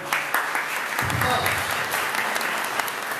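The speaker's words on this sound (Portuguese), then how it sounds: "Uma salva de palmas, por favor." Steady applause from a crowd, dense and continuous clapping throughout at moderate loudness.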